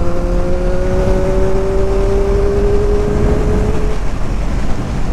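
A 2022 Triumph Street Triple RS motorcycle engine drones steadily and loudly while riding, with a thin tonal whine that climbs slightly before fading near the end, over constant wind rush.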